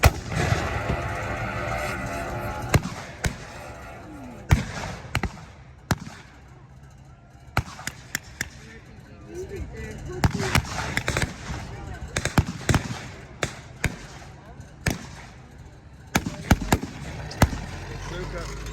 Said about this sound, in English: Bazooka.